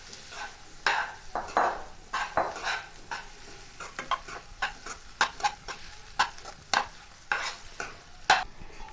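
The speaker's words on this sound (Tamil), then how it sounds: "நம்ம எடுத்து வச்சுருக்க அந்த சோயாவை இது கூட சேர்த்துக்கலாங்க. இப்போ அப்படியே இதை கலந்து விட்டுறலாங்க." Soya chunks are stirred into sizzling masala in a pan, giving repeated scraping strokes of a spoon against the pan in an uneven rhythm over a soft sizzle, close and without talk.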